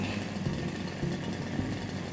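A Maruyama AE420 brush cutter engine, mounted for a brake test, is revved up toward 7,000 rpm and holds a fairly steady, faint buzzing drone with slight pulsing, and nobody speaks.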